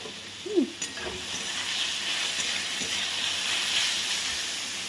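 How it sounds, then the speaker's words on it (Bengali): Blanched diced carrots sizzling and being stirred in a pan for fried rice, a steady soft hiss of frying with a few light clinks from a spatula, moderately quiet and close. "দিয়ে দিলাম গাজরটা"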